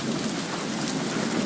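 Steady rain with thunder rumbling through a nighttime storm, a dense continuous wash of falling water with a low rolling undertone, loud and unbroken with no voices.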